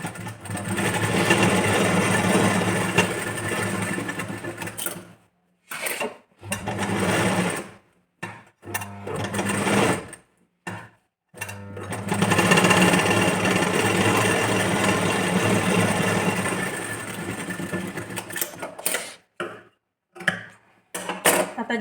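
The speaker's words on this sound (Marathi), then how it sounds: "इथं स्टिच करून घेतली." A sewing machine stitches a blouse strip in long continuous runs, close and steady, broken by short pauses and brief bursts as the fabric is turned.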